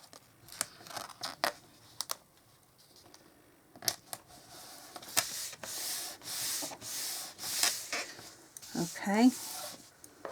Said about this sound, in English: Again, we'll burnish that down. Make sure it gets a good contact.